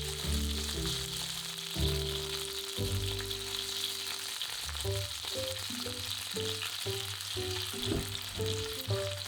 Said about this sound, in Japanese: 形を整えたら触らず焼き色がつくまで待つ。